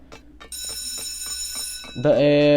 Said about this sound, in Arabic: ضرب الجرس او البتاع بيرن